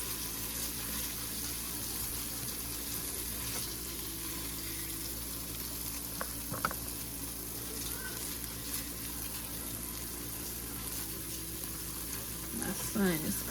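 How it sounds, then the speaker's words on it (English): Oil frying in a pan before chicken is added for a chicken curry, a low continuous sizzle with occasional clinks and faint background noise, fairly quiet. "I'm supposed to fry this oil for a few minutes"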